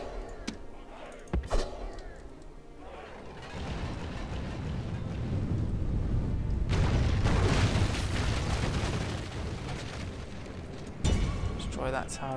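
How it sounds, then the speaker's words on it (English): Onager catapults pound a tower in the ancient-warfare strategy game Roma Surrectum 2, a couple of sharp early impacts followed by a long, swelling rumble of crashing and debris, then another hit near the close. "I'll get my onagers to attack that tower"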